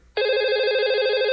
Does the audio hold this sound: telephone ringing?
yes